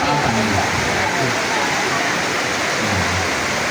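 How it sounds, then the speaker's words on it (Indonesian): Rain falls as a dense, steady hiss with no gaps, loud and close, while faint low voices murmur underneath at times. "dapat dengar hujan ya?"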